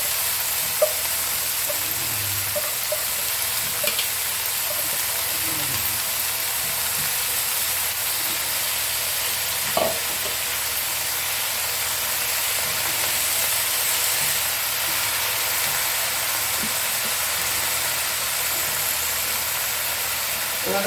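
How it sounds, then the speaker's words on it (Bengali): Spinach leaves hit hot oil with fried spices in a pan, giving a broad, continuous sizzle that stays fairly loud and even throughout, with a few faint clicks and knocks from the pan. "এবার আমি শাকগুলো ছেড়ে দিচ্ছি।"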